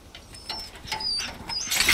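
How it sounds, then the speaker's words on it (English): A wolf in the video game Resident Evil 4 Remake whimpers in faint, high, thin whines, several short cries close together against quiet game ambience. "It's not a dog, that's a wolf."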